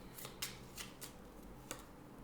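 Tarot cards being handled and drawn during a reading: a few faint, brief papery snaps and riffles at irregular intervals over a quiet background, with no talking.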